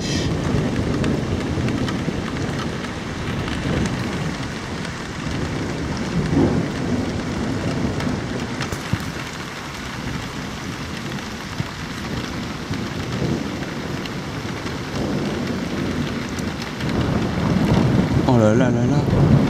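Strong thunderstorm with an arcus cloud over Amboise: continuous rain hiss under repeated deep thunder rumbles that rise and fall, growing louder near the end, with occasional excited voices in the background.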